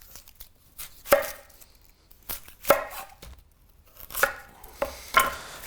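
A knife cuts onions through the root down the middle, producing four or five distinct, crisp chops at uneven intervals against a board, close and clear with no talking.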